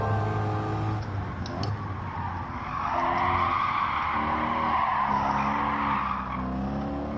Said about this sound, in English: Just a tad of a drift around there as well.